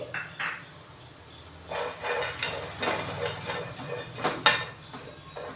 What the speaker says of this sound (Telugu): ఇది డ్రై రోస్ట్ చేసుకోవాలి వేయించుకోవాలి